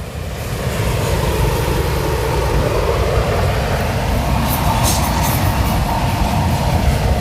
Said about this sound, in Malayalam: അപ്പോൾ നമ്മൾ വന്ന സമയത്ത് ഒരു ട്രെയിന് വന്നു.